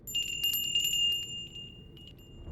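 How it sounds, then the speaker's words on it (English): A small bell rings in the corner of a room, its bright sustained tones chiming repeatedly and then fading over a soft low background hum, with no voices present. "At this point, a small bell rings in the corner of the room."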